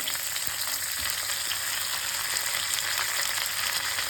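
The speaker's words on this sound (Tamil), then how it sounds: "கடுகு நல்லா பொரிஞ்சிருச்சு" Mustard seeds with chana and urad dal fry in hot oil for a variety rice dish, giving a dense, continuous sizzle with scattered small pops close by and no voices.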